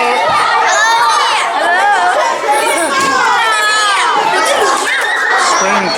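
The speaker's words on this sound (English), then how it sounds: "Screaming kids all through here," Crowds of children scream and shout continuously inside the Peking Man Site museum, a loud, echoing din of overlapping young voices with no pauses.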